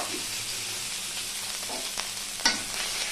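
Spices and ginger paste frying in a pan, a steady moderate sizzle broken by a few light spoon scrapes and one sharper click.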